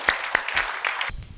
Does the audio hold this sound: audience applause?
yes